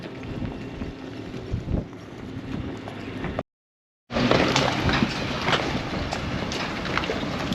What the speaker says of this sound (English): there is a very nice breeze coming through here